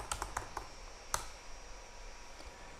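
Keys tap on a computer keyboard, a few quick light clicks close by, then one stronger keystroke and quiet room hum.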